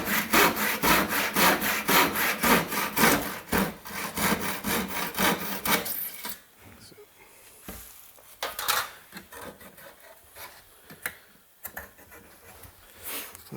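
Hand saw cutting timber on a home extension build, a fast, loud rhythmic rasp of repeated strokes that stops halfway, followed by quieter scattered knocks and handling noises.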